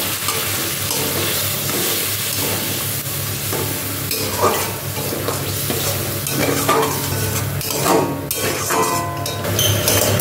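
Curd gravy with whisked sour curd and a splash of water is stirred and fried in a pan for a vegetarian dish, a steady close sizzle under repeated scraping strokes of the spoon, no talking.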